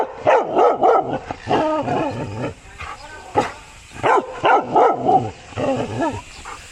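A dog barks in repeated bursts, loud and close, with short pauses between clusters of yaps during a road trip along the Myanmar border.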